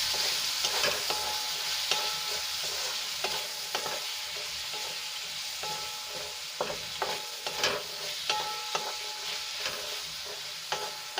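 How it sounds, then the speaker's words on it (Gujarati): Chili powder and garam masala being stirred and sautéed in a pan, a soft continuous sizzle with repeated scraping and clinking of the spoon against the pan, close and unhurried, no talking. "બધું આપણે સરસ રીતે મિક્સ કરીને એકાદ મિનિટ માટે સાંતળી લઈશું"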